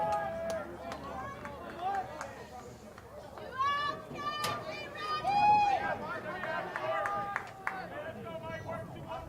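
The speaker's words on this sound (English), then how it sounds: "You can hear the lively crowd in the background" Lively crowd at a college baseball tournament game, chatter, shouts and scattered calls at moderate distance, rising and falling, with voices talking over it.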